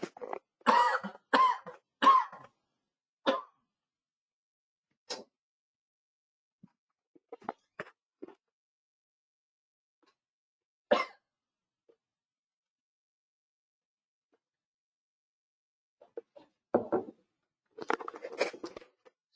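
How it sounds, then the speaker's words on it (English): A man coughs and clears his throat during a talk, with a quick cluster of harsh coughs at the start, scattered single coughs through long quiet gaps, and another bout at the end. "I think my cough is still there."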